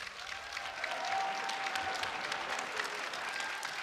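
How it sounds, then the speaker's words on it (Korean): Audience at an AFC fight event claps in a steady, continuous round of applause from a moderately distant crowd, with no talking over it. "박수 부탁드리겠습니다."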